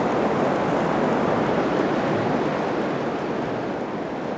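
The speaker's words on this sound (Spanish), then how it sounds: "creo que ustedes no me pueden escuchar debido a la lluvia tan fuerte" Heavy rain pours down in a steady, dense roar that fills the whole clip with no pauses, loud and close, with no voices.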